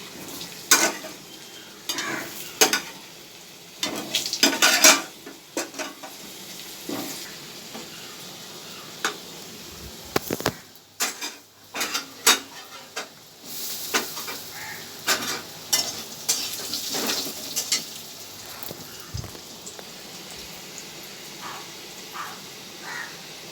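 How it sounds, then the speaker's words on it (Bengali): Fried potatoes with cumin seeds sizzle in hot oil while a spoon stirs and scrapes the pan in repeated irregular bursts, the frying hiss continuing underneath without any speech. "জিরে ফোড়নটা দিয়ে দিলাম এবার ভেজে ভেজে রাখা আলুগুলো আমি দিয়ে দিচ্ছি"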